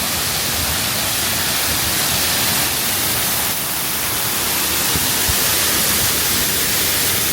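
The Detian–Ban Gioc waterfall on the China–Vietnam border, swollen in the rainy season, sends up a dense, unbroken roar of rushing water. The loud, hissing wash holds steady throughout.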